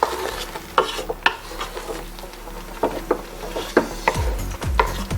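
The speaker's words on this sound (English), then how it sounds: "You have to continually stir it so that it will not stick to the pot." Egusi soup stirred in a pot on the stove, with a spoon scraping and knocking the pot in irregular strokes over a soft sizzle, close and clear with no talk.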